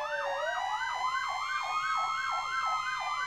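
Emergency vehicle sirens from a Roblox fire-and-rescue game wail in a steady, rapid up-and-down sweep, loud and continuous, with a higher constant electronic tone layered on top and no voices.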